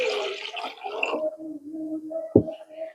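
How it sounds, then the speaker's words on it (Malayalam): Water pours into a bowl of beaten eggs, a short splashing trickle close by that settles into a quieter gurgle, with one sharp knock near the end. "ഇനി നമുക്ക് ഇതിലേക്ക് വെള്ളം ഒഴിച്ചു കൊടുക്കാം"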